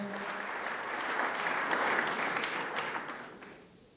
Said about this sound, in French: je pense qu'il mérite vos applaudissements